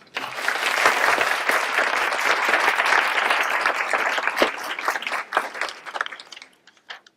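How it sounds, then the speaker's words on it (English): A full burst of audience applause at a women's history recognition event, dense steady clapping that swells, holds, then thins into a few last scattered claps before fading. "Let's give them an applause."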